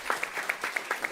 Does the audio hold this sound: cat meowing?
no